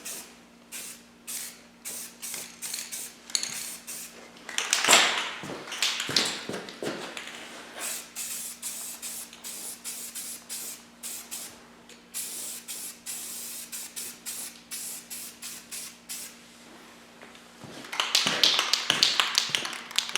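Aerosol spray coating hissing onto a Tusk rack for a KLX 300 dirt bike in many short, sharp bursts with brief gaps, building to denser spraying near the end; close by, with a faint steady hum underneath.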